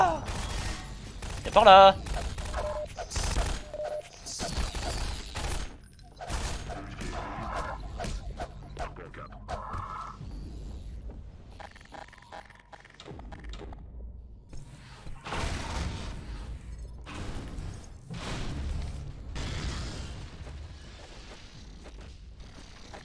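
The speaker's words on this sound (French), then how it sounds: "C'est qui tire?" Half-Life 2 gunfire comes in scattered shots and short rapid bursts, loud and close, separated by quieter stretches of game sound, with someone speaking briefly.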